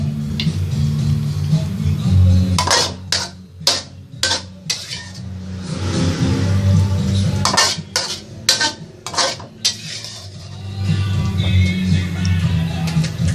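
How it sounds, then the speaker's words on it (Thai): Metal utensils clang and scrape rapidly against a wok in bursts of sharp, loud hits while stir-frying kale in oyster sauce, with a steady sizzling hum underneath. "ทำให้กระทะดังขนาดนี้ก็ได้นะแต่"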